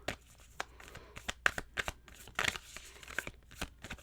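Moonology Oracle cards being shuffled by hand, a run of quick, crisp riffling and flicking bursts at close range, irregular and fairly soft, with no talking.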